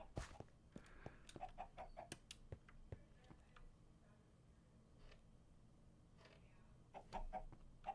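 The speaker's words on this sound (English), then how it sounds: "I hear chickens in this side of the... Yeah, there's chickens over here too." Chickens in a Minecraft game: scattered short clucks and sharp ticking calls come in bursts at moderate distance, with quiet gaps between them and a soft background bed.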